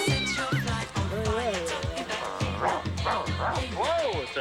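A dog barks and yips in a VHS movie trailer, several short barks mixed with whimpering and meow-like animal cries, with voices talking over them at close range.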